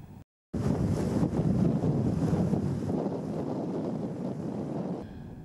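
Strong wind and heavy surf on the coast of Mandar Bay in Majene, West Sulawesi, during bad weather, a loud steady broadband roar of gusts buffeting the microphone over crashing waves, with no voices.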